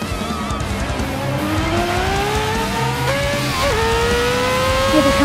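Formula One race cars roar through the final turns in the Forza racing game, one high engine note climbing steadily as it accelerates, with a shift and faint tire squeal over a continuous loud engine bed.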